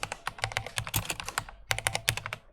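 Rapid, steady typing on a computer keyboard while writing CSS code, with close, crisp keystrokes in quick bursts and a brief pause before the clatter resumes; no voices.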